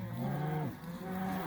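Cattle on pasture lowing, one long deep moo followed by another after a short gap, moderately close against quiet outdoor background, no talking.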